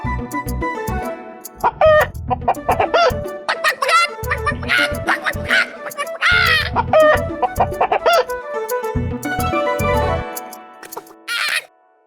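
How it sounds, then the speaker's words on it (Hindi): Rooster clucking and squawking in choppy bursts, loud and near, with a few sharp crow-like calls breaking through. "मुर्गा ऐसे क्यों देख रहा है?"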